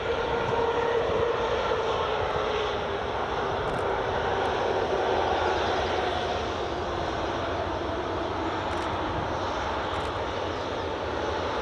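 A WestJet jet, likely a Dreamliner, taxis in at Edinburgh Airport, its engines giving a continuous, loud, steady roar and whine that holds level throughout with no talk.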